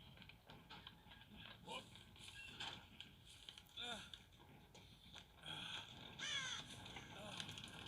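Crows caw repeatedly in the horror game Dead by Daylight, harsh calls rising now and then over low game ambience while someone talks through much of it.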